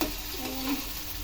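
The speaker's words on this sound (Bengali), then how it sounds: "সুন্দর করে ভেজে নিচ্ছি।" Fish head curry with potato and tomato fries and is stirred in a pan, giving a steady, fairly quiet sizzle with a brief scrape of stirring near the start.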